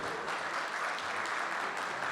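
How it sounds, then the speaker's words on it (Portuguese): Applause from a church men's breakfast gathering welcoming first-time visitors, a steady, fairly soft wash of clapping throughout with no voices on top. "uma salva de palmas aí"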